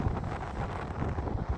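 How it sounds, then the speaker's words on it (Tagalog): Strong wind buffets the microphone on an evening shingle beach, a steady low roaring rumble with gusty swells and no voices. "Mahangin."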